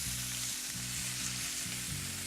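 Sable fish fries in a hot pan with a steady close sizzle, and a faint repeating low tone runs beneath it.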